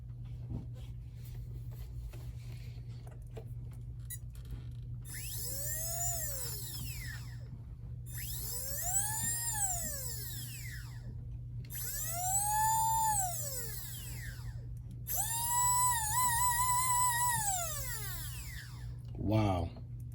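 The brushless electric motor of a custom 8S Arrma Infraction V2 RC car whines through four revving bursts, each pitch sweeping up and back down, over a steady low hum, with faint background voices.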